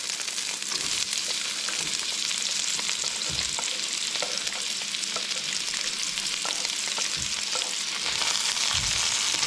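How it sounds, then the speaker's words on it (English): Chopped onion sizzling and crackling in a hot wok with oil used for frying fish, a steady loud fry with occasional stirring scrapes, close up and without talk. "I'm just going to fry that off just for a minute or two"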